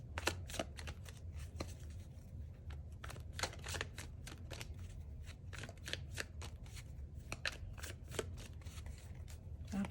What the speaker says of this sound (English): Let's get a couple of tarot cards out, one for each of your options.